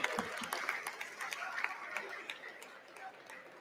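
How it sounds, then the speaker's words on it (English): Scattered clapping in the U.S. House of Representatives chamber mixes with crowd chatter and voices, a light, uneven round of applause that tapers off toward the end. "Can we get a round of applause?"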